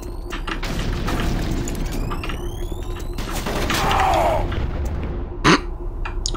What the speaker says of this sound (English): I'm gonna use the grenades against these motherfuckers